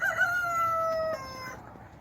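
A rooster crows once in a home garden, a long, loud, harmonic call that holds steady and then breaks off, leaving faint background noise.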